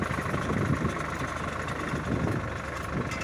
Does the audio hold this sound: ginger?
no